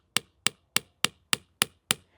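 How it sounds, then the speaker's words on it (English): A tap spout being hammered into a black walnut tree: eight sharp, evenly spaced metal-on-wood strikes, close and crisp, each ringing briefly, with no voices. "you want to drive this in with your hammer just so it's firm, okay, and straight in"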